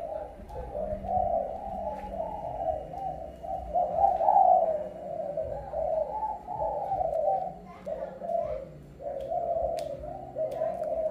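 A kept flock of pigeons or doves calling, a steady series of rhythmic coos repeating close by with faint background rustle.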